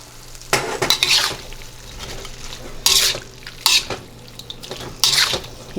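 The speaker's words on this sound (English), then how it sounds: "Right, we're adding the beef." Beef is stirred into ginger sauce in a pan, with several sharp clinks and scrapes of a utensil against the pan over a soft sizzle, in separate bursts without talk.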